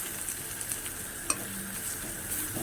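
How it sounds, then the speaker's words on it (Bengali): Spices frying in oil as the base for a katla fish curry give a soft, steady sizzle, fairly quiet, with a few faint clinks of stirring. "এবার আমি মশলাটাকে ভালো করে ভেজে নেব, একদম পুরো লাল লাল হয়ে যাবে ভাজা"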